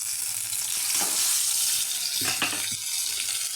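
Thick ground kharkol leaf paste sizzling in a pan as it is stirred, a steady frying hiss broken by a few scraping strokes of a spoon.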